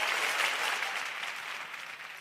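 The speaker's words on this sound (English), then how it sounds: "A round of applause." An audience at a fintech conference in Nigeria claps in a dense, steady round of applause that slowly tapers off over about two seconds.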